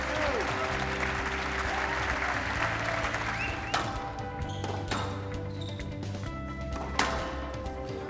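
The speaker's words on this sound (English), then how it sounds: "Standing ovation from the crowd." A squash crowd gives a standing ovation, with sustained applause and cheering filling the arena and a few sharp thuds and claps standing out near the end.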